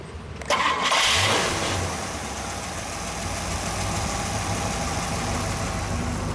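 A 1966 AMC Marlin's engine cranks and catches with a loud burst, then settles into a steady, smooth, quiet idle close by, with no talking.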